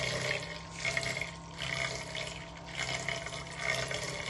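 A homemade magnetic stir plate built from spare parts swirls liquid, making a steady watery wash over a low, constant motor hum that runs unbroken throughout, with no talking.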